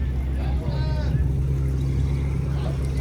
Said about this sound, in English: That's a parade tractor.